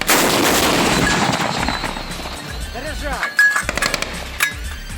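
An SPG-9 recoilless gun fires a nitroglycerin powder charge with a loud, sharp blast at the start, followed by a decaying rumble and a few scattered thuds and crackles.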